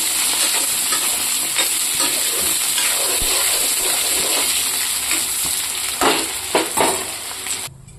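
Potatoes fry in oil in a wok with a loud, steady sizzle, broken by a few scraping stir strokes near the end before it stops abruptly.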